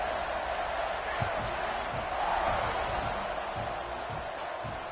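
Football stadium crowd at a Texas Longhorns game buzzes steadily before kickoff, a dense, continuous roar of many voices with no single voice standing out.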